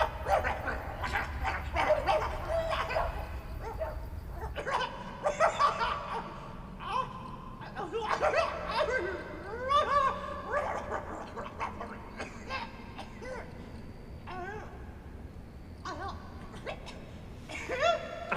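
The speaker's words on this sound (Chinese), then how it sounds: "啥破狗叫什么玩意儿呢？" A dog barks again and again in the middle of the night, medium distance, as scattered yelps and bow-wows with laughter and voices mixed in.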